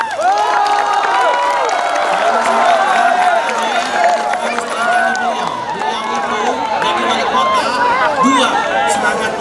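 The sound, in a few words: crowd applause at an opening ceremony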